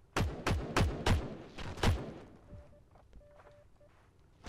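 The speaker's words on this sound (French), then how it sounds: "J'ai l'impression qu'il y en a un derrière qui tire." Gunfire in the video game Heroes & Generals: a quick burst of about six loud, sharp shots in uneven rhythm, then a quieter stretch with faint distant noises and a few small beeps.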